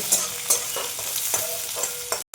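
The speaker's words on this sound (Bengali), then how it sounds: "পেঁয়াজটা একটু লাল লাল করে ভেজে নেব।" Onion with dry red chilli, cinnamon, cloves and cardamom is fried in a pan while being stirred. A close sizzle comes with repeated scraping stirs, and the sound cuts out briefly near the end.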